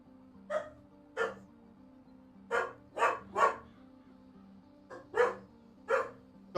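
Dogs barking in a series of separate, fairly close woofs, about nine barks in irregular pairs and singles over a quiet low hum.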